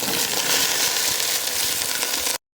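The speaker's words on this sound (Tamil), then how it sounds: "வெங்காயம் போட்டு நல்லா வதக்கிக்கிறேன்" Sliced onions sauté in hot oil with cardamom, bay leaf and cinnamon for a cheese chicken fry biryani, making a loud, steady, close sizzle that cuts off abruptly near the end.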